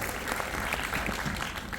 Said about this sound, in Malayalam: കയ്യടി പോരാടാ, നല്ലൊരു കൈ എടുക്കാം.